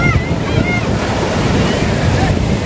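Strong sea waves crash and roll continuously onto a beach under stormy conditions, a loud, steady surf roar with wind noise buffeting the microphone throughout.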